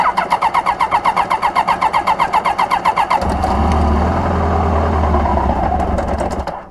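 A 1995 Kawasaki Voyager XII motorcycle engine, dosed with starting fluid, cranks in a fast rhythmic starter whir for about three seconds, then catches and runs at a steady, loud idle up close before cutting off.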